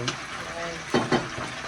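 Shish kebab sizzles steadily in a frying pan at a family birthday dinner, with a couple of louder bursts as it is stirred or turned.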